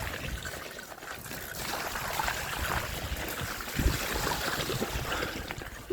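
A bike rides through water and mud on a Yorkshire trail, giving a steady wash of splashing and churning water with a brief louder splash near the end and no talk.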